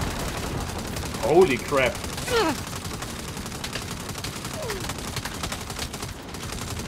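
Rapid automatic gunfire in the video game Saints Row, a dense steady stream of shots running under a man's surprised exclamation and other brief talk.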